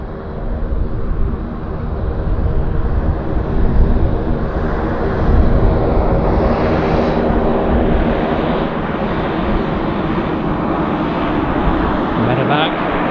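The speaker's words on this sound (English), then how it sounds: "Got a CRJ here at Canada Jazz." A Jazz CRJ regional jet roars at Vancouver airport, a loud, broad, continuous engine rumble and rush that holds steady and close throughout, with people talking over it.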